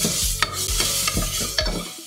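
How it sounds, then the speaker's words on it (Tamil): Onion, garlic and ginger fry in a pan for dal khichdi, with a spoon scraping and stirring in quick repeated strokes over a soft sizzle, close by and without talk. "எல்லாம் சேர்த்து ஒரு நிமிஷம் வரைக்கும் நம்ம ஃப்ரை பண்ணிக்கலாம்"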